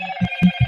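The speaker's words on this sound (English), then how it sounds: "Somebody is blowing my phone up for whatever reason." A phone rings with an incoming call, three short repeated electronic tones over a steady higher-pitched hum, close and clear.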